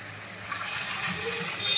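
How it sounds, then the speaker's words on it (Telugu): Water pours steadily into chicken pulusu curry in a cooking pan, a soft continuous gushing hiss that swells after a brief quieter start and runs on alone at close range. "ఇప్పుడు మనం వాటర్ వేసుకుందామండి."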